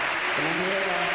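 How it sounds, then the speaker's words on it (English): A tennis crowd in Madrid at the 2006 year-end championships keeps up a steady wash of applause, with a voice speaking over it. "Sustained applause here in Madrid"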